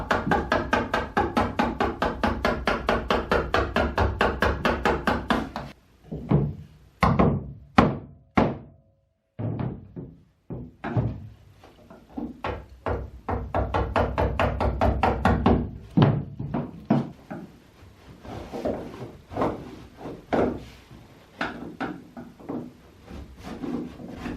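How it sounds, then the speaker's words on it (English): A chisel works wood for keel batten landings on a centerboard slot keel, first as a long run of rapid, even taps, then as slower separate knocks and scraping strokes, close and fairly quiet. "A batten dummy acts as helper during the creation of the keel batten and landings with a chisel."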